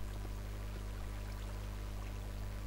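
Water flowing in modded Minecraft (Technic Pack), a steady faint pouring trickle over a constant low hum, no voices.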